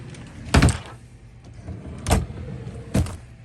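A drawer in a home workshop slides and thuds, three short bursts about a second apart, fairly close and moderately loud against a quiet room, with no talking.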